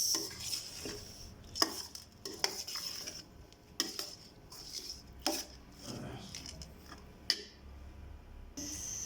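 Aloo chicken ingredients with salt being mixed in a pot, with repeated scraping and clinking of a spoon against the metal in an irregular rhythm, close and moderately loud, no talking.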